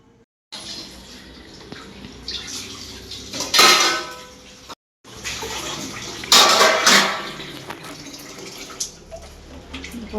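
Dishes and pots are washed under running water, steel pans clattering and scraping in bursts over a steady stream from the tap, close and fairly loud, with two brief gaps.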